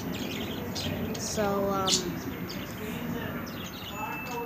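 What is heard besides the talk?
pet birds chirping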